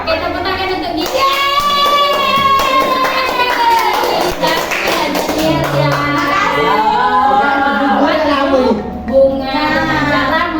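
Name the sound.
applause, clapping hands for a child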